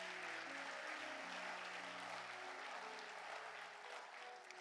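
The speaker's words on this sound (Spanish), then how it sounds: "Denle un aplauso al Señor." A church congregation gives steady, dense applause, with sustained organ or keyboard chords playing underneath and the clapping tapering slightly at the end.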